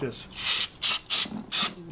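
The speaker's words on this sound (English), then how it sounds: "you just take your cleaner here and you just spray it straight in there, just like this" An aerosol can of cleaner sprays during a tune-up on a Toyota Corolla with a 7AFE engine, giving four short, loud hissing bursts in an uneven rhythm with brief pauses between them.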